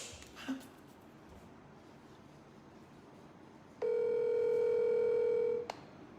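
An outgoing telephone call rings unanswered: one steady, even ringing tone of about two seconds rises over a faint hiss, with no voices.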